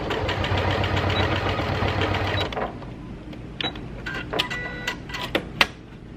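An Elna Elnita EF72 sewing machine punches through thick layers of denim in a dense, loud rattle that stops partway, followed by scattered clicks and handling knocks.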